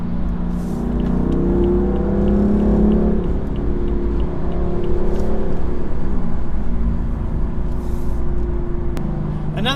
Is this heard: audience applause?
no